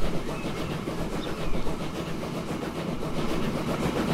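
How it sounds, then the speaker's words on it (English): A train in the video game Transport Fever 2 runs along rails with a steady rumbling roll and faint rhythmic clatter, continuous and fairly close, with no talking. "Let's ride on the train."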